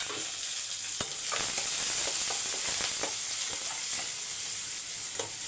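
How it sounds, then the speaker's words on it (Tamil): Garlic, one dried chilli, curry leaves and a large onion frying over a low simmer, with a steady bright sizzle and occasional stirring scrapes and taps throughout. "ஒரு அஞ்சு பல் பூண்டு ஒரே ஒரு காஞ்ச மிளகா கொஞ்சம் கருவேப்பிலை ஒரு பெரிய வெங்காயம்"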